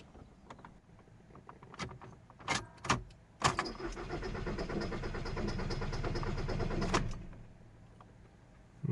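A 2-liter Volkswagen Passat TDI diesel that will not start is cranked: a few clicks, then about three and a half seconds of steady starter whir that stops without the engine catching, recorded close in a quiet space.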